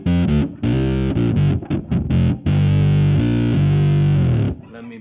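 Fuzz-distorted electric guitar riff run through an octave effect so it takes on a thick, synth-like tone; loud sustained chords and choppy stabs with brief gaps, then dying away at the end.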